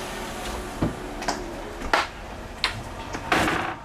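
The ramp of a large ambulance bus with a mobile operating theatre lowers in a series of close mechanical clunks and thumps, about six or seven knocks spaced irregularly over a low background hum.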